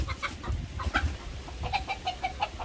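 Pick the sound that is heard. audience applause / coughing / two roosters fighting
two roosters fighting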